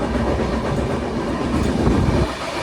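A train rumbles past close by, loud and continuous, its wheels clattering on the rails for the whole stretch with no voices.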